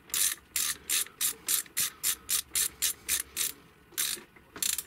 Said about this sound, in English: So I'll just nip these up now with a spanner.